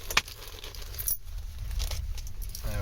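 A bunch of keys jangles near a euro cylinder lock, with a sharp metallic clink at the start and lighter rattles further on, over low background rumble.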